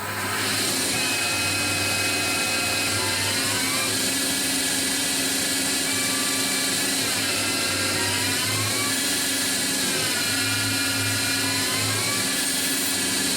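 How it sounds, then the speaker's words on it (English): A Tormach lathe moving to its home position while machining titanium LBS screws, a loud, steady motor whine with tones that rise and fall in pitch as the axes travel, continuous throughout. "So it moves to the home position first."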